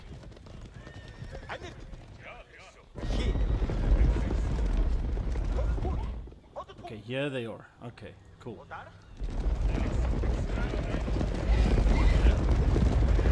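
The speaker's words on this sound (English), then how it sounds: "Oh, listen to those horse hooves." A horse whinnies and hooves clatter amid a busy, rumbling game soundscape, with a person talking over it and a brief quieter gap midway.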